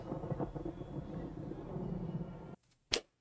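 A thunderstorm in the 1990 film Gremlins 2: The New Batch gives a low, continuous rumble that drops away, then a sudden loud crack of thunder near the end.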